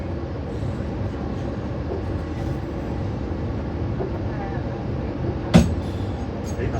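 Steady low rumble and rattle inside a moving train, continuous and even, with a single sharp knock near the end.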